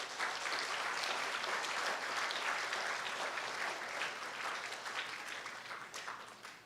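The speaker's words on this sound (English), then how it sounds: "let us show our appreciation to your teachers by giving them a lusty round of applause" A roomful of people claps for teachers at a primary school graduation, a dense, sustained round of applause lasting several seconds and tapering slightly at the end, with no talking over it.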